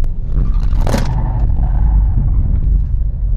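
Road noise and engine rumble from a Nissan Grand Livina taking a corner at about 80 km/h, a loud steady drone with a brief scraping burst near the start.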